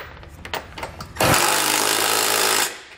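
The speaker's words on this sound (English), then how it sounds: "I'm going to go ahead and tighten up the two nuts on each side of our hitch here" An impact power tool tightens the nuts on a Draw-Tite Max-Frame trailer hitch on a 2020 Chevrolet, a few short taps followed by one loud, sustained whirring run of about a second and a half that cuts off abruptly.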